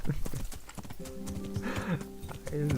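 Horse hooves clip-clop steadily and close in Kingdom Come Deliverance, with a brief snort or whinny and a voice talking over the hoofbeats.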